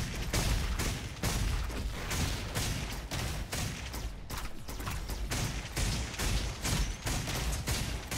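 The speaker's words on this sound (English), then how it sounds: "I like the shotgun." Shotgun fire in the shooter game Roboquest: a dense, continuous barrage of loud blasts and booms with mechanical clatter, running steadily throughout with no voices.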